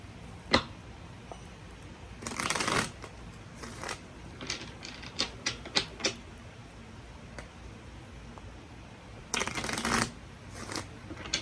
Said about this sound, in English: Get one more shuffle to clarify.